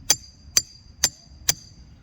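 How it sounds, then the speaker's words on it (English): A hammer pounds a mast holder stake straight down into the ground with four evenly spaced, sharp ringing strikes, close and loud, each leaving a brief metallic ring. "make sure you bring a hammer. You're going to pound this straight down to the ground."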